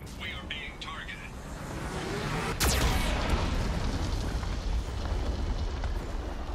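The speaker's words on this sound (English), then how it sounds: "Warning, Geth cannon is locking on our location." Geth cannon fire in the Mass Effect 2 video game, heard as a sharp, loud blast partway through that opens into a broad, rumbling explosion and continues as heavy sustained roar, with faint voice chatter near the start.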